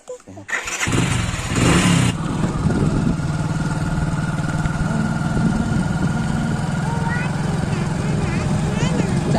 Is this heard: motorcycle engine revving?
yes